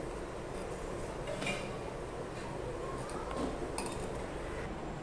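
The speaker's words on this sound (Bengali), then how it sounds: "দেখুন, সিমুইটা দেওয়ার পর আমি খুব ভালো করে নেড়ে নিচ্ছি দুধটার সাথে সিমুইটা।" Vermicelli stirred into milk in a pot for sewai kheer, with a steady low bubbling wash and a few faint clinks of the spoon against the pot.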